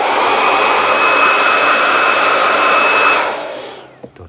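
A hair dryer blows steadily and loudly on hair with a constant whine and rushing air, then winds down and switches off near the end.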